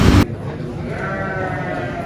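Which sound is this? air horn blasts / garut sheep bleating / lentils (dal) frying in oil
garut sheep bleating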